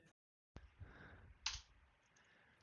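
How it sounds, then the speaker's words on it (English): Loud computer keyboard clacking, a few sharp isolated key clicks after a brief silence, close and quiet overall. "I do have a nice loud keyboard."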